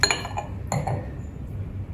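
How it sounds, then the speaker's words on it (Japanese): Glasses clink together in a toast at a restaurant table in Sydney, a bright chime at the start and another soon after, ringing briefly before fading into quiet room noise. "では、まずは乾杯ってことで。"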